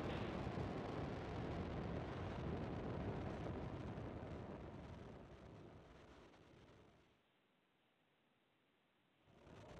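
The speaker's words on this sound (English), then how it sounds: "And liftoff of the Falcon 9." A SpaceX Falcon 9 rocket lifts off from Vandenberg Space Force Base with a broad, roaring rumble that slowly fades as it climbs, then drops to near quiet before noise returns.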